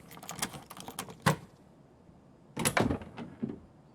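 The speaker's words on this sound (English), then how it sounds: "The door sounding, especially when you unlock it, is loud." Door being unlocked and opened in Escape from Tarkov on Customs: a run of sharp clicks and clacks, then a pause, then a louder burst of rattling latch and creak noises, fairly close.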